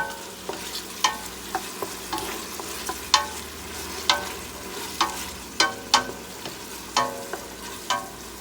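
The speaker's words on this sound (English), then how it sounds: "you added up the red peppers, which is that's what I'm frying right now." Red peppers sizzle and crackle steadily in a hot pan, with frequent sharp pops and scraping stirs, close and fairly loud, no talking.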